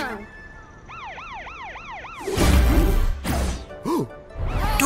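A cartoon police car siren rises and falls in a quick repeating cycle, then loud crashes and thumps break in, with more short siren swoops between the impacts.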